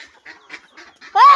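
A few soft, nasal duck quacks in quick succession, ending with one louder, sharper call up close.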